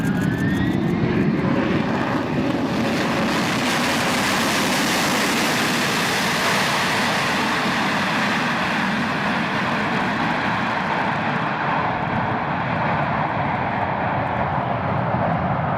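A fixed-wing airplane landing on a short 700-metre runway and braking as hard as possible, a loud, steady roar of engines and rushing air that holds throughout and thins slightly toward the end.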